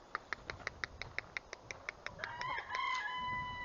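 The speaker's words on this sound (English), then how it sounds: "looks like the chickens are out back" Backyard chickens give a run of short, regular clucks at a moderate distance, then a rising, drawn-out squawk at the end.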